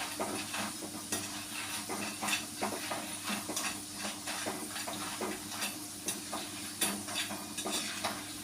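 Pieces of tapioca (kappa) fry in hot oil with a steady moderate sizzle, plus soft scrapes and clinks of a spoon stirring in the pan, and no talk over it.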